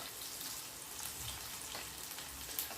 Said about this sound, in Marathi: कांदा मसाले छान भाजत आला आहे